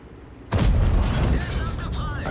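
A single heavy tank gun shot booms in a video game after a quiet moment, with a loud low blast followed by a sustained rumbling tail.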